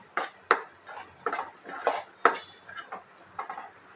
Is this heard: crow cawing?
no